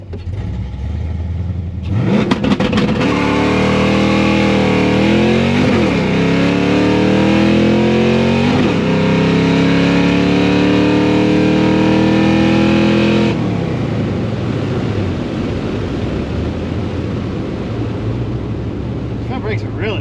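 A car engine revs hard in second gear during a failed burnout attempt, holding a high, straining drone with repeated pitch swoops, close and loud, then drops back to a rough idle.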